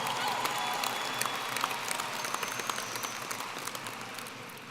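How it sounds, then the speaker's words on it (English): A large crowd at the Coronado High School class of 2022 graduation in an arena breaks into applause, clapping and cheering that is loud at first and slowly fades, with a voice briefly audible over it. "Give them a round of applause."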